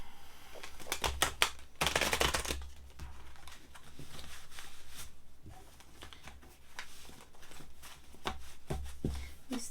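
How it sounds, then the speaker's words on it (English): Stiff tarot cards are shuffled in uneven riffling bursts, crisp clicks and slaps close by, with quieter pauses between rounds. "These tarot cards are a little bit difficult to shuffle."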